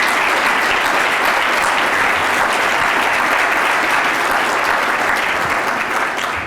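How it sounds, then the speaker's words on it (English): Loud, sustained applause from a large audience at a Fulton County State of the County event honoring elected officials, a thick unbroken roar of clapping that holds steady throughout before tapering at the very end. "Can you all please stand again and receive a round of applause for your service?"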